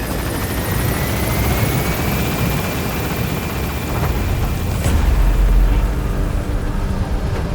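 Pequod helicopter lifting off in Metal Gear Solid V: The Phantom Pain, a loud, steady rotor roar and engine whine that swells toward the end with a deep rumble.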